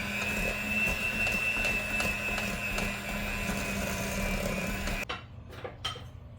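Electric hand mixer beating a doubled batch of chocolate chip cookie dough, a steady whirring motor with a constant tone running loudly for about five seconds, then cutting off to leave a few soft scraping knocks.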